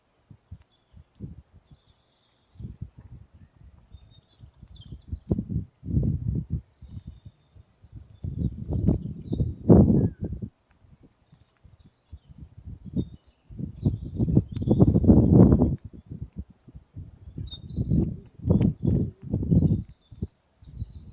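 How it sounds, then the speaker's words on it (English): Wind gusts buffet the microphone outdoors at a highline, rising and falling in strong low bursts, while faint bird chirps sound in the distance. "And you hear the wind and the birds."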